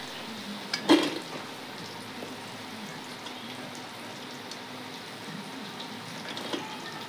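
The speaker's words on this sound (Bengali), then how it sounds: "এই বড়া করতেও লাল লাল করে ভেজে নিচ্ছি।" Chana dal fritters frying in oil, a soft, even sizzle with one louder clatter near the start and a faint scrape later.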